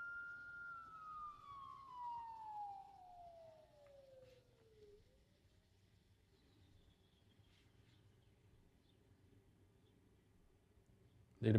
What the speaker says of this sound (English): the police siren